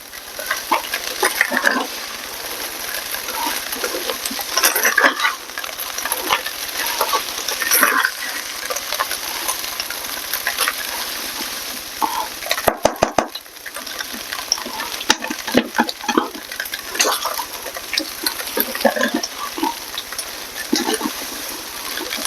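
Sausage or hash brown frying in a pan for breakfast burritos, a steady loud sizzle and crackle running throughout with scraping stirs and brief clatters, no voices.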